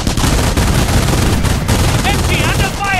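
Loud, sustained heavy machine gun fire in the WWII strategy game Company of Heroes at the Falaise Pocket, continuous rattling bursts with distant booms and chirping tones near the end.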